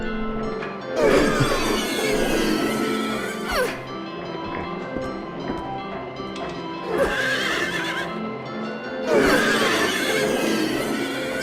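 Horse monster in the video game Silent Hill 3, loud repeated neighs and whinnies in three bursts over clopping hoof sounds and a game background.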